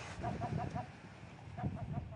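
A razorbill chick being handled at its nest on Saint-Pierre-et-Miquelon gives repeated short, high peeping calls in small bursts, close and moderately loud over a steady windy background.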